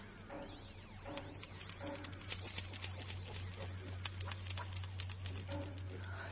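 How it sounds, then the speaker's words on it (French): An old Omega computer in a radio play sends out an eerie, macabre mechanical drone: a steady low hum under rapid chirping sweeps and repeated pulsing clicks, moderately loud and continuous, with no speech. "Ce doit être le vieil ordinateur Oméga de Doc"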